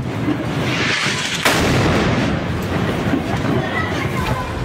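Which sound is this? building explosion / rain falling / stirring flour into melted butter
building explosion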